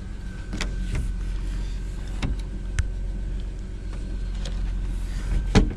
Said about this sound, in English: The sunroof does work.